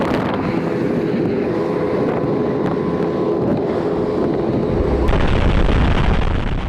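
A speedboat engine drones loudly and steadily over rushing wind as the boat passes an Indonesian border post, its rumble deepening toward the end.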